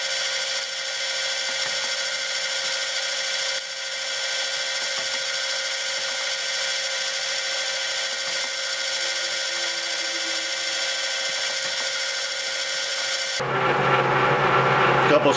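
A metal lathe takes a light spring cut on a test nut, a steady close whirring hum with faint tool rubbing running evenly throughout, then a brief louder shift at the very end.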